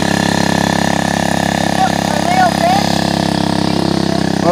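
A 60cc dirt bike engine idles steadily and loudly at close range on a trail, a constant mechanical drone with faint chirping sounds over it.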